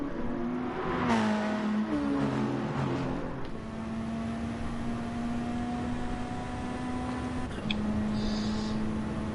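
A Mitsubishi race car in a racing video game screams along Conrod Straight at Bathurst, its engine climbing through several gear changes before settling into a long sustained high-revving whine, up close and steady.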